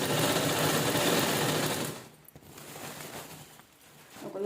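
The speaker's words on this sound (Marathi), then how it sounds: "शिलाई करून घेऊया" A sewing machine stitches saree fabric for a slipper-stand cover, whirring loudly and continuously for about two seconds, then running more quietly and unevenly.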